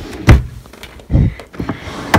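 A vanity drawer is pushed shut, giving a few dull wooden thuds and knocks spread over a couple of seconds, close and fairly loud, with no talking.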